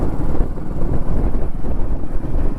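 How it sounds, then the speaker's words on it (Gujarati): Cold wind buffets the microphone during a Splendor motorcycle ride near Savarkundla, a steady loud low rumble of gusts filling the whole stretch with no voices. "અરે ઠંડો પવન આવે છે એક નંબર"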